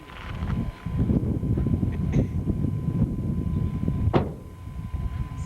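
Wind blows across the microphone beside Lake Superior, a loud continuous rushing roar that gusts a little, with a few brief knocks and no voices.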